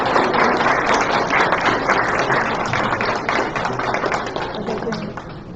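A room full of people applauds a U.S. congressman after his speech at a meeting, dense steady clapping close by that slowly tapers toward the end.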